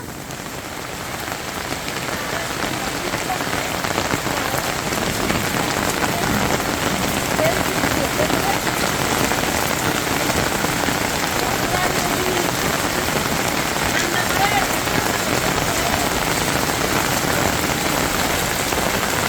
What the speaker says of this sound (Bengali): কোথায় কোথায় বৃষ্টি হইতেছে।